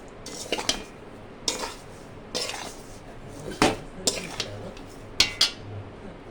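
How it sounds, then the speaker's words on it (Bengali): A spoon scrapes and clinks against a pan as vermicelli (simai) is slowly fried and stirred, making several separate metallic strokes over a low background hiss, with no voices. "সিমাই কিন্তু খুব আস্তে আস্তে ভাজতে হবে।"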